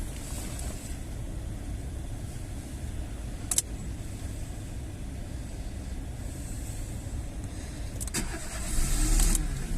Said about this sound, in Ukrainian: заведемо автівку